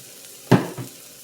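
Garlic drops into a hot pan and gives one short, sharp sizzle, followed by a smaller second hiss as it settles, close by and with no voices.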